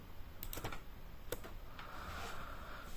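Typing on a computer keyboard, a few sharp separate key clacks early on and another tap a bit later, quiet and close with light background noise and no speech.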